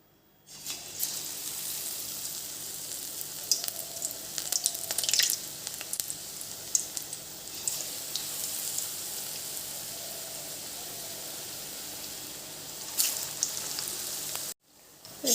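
Battered eggplant fritters (beguni) frying in a hot wok give a loud, continuous close sizzle and crackle. It holds steady for most of the clip with brief silence at both ends.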